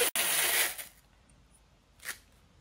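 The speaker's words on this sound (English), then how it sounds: "we are taping it all back together" Clear packing tape rips loudly off the roll for almost a second, with a shorter tearing pull a moment later, as it is pressed onto bandsawed wooden pieces of a 3D reindeer to hold them together.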